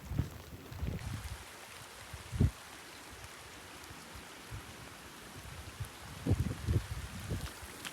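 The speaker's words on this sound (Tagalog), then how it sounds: "Lakas ang ulan oh." Dense, steady rainfall hissing all around on a mountain in Mayoyao, Ifugao, with occasional low thumps and wind gusts underneath.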